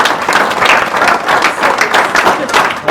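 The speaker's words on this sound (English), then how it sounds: "A round of applause." Wedding guests break into lively, close applause at a reception, a dense and even patter of hand claps that holds strong from start to finish.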